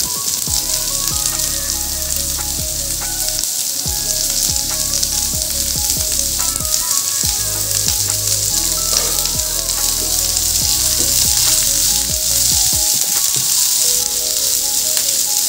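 Onion, garlic cloves and ginger roasting in a pan on a low-medium gas flame for a Bhogi vegetable dish, a loud, dense, continuous sizzle with frequent stirring clatters, close by.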